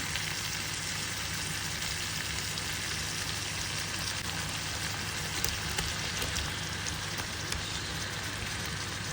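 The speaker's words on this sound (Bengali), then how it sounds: "তেল চলে আসছে এখন আমি মাছগুলা দিয়ে দিই" Fish frying in hot oil with spices gives a dense, steady crackling sizzle, heard close and continuously like rain on a surface, with occasional louder pops.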